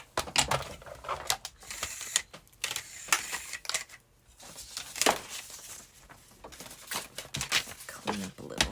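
Junk-mail paper being cut into 4.5 by 7 sheets with repeated crisp slicing and rustling strokes at an uneven pace, close by, with a person talking over parts of it.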